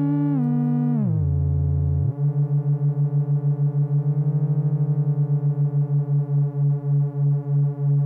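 A pure, smooth synthesizer tone drops in pitch and then holds steady, pulsing in a gentle wobble that slows toward the end.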